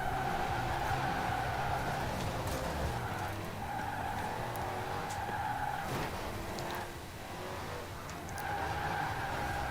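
Dodge Daytona drifting in a video game, with repeated tire squeals rising and fading over a continuous engine drone, steady and fairly close throughout.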